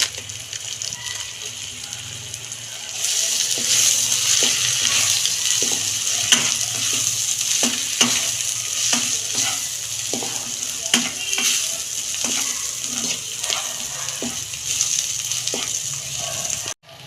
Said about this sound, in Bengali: এইটাই ভালো করে একটু কষছে নেবো